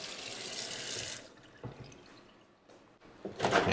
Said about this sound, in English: We'll run hot and cold water at the kitchen sink